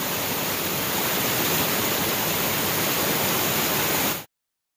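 A raging waterfall along the Appalachian Trail roars as a steady, dense wash of rushing water, loud and close, then cuts off abruptly near the end.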